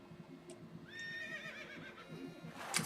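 Horse whinnying in the West of Loathing video game, one clear drawn-out neigh with wavering pitch over a faint background, ending in a short sharp burst.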